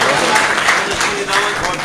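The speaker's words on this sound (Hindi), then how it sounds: "एक बार उसके लिए ज़ोरदार ताली" Audience at a mushaira poetry gathering in Khamgaon breaks into continuous, fairly loud applause, a dense steady patter of clapping throughout the short stretch.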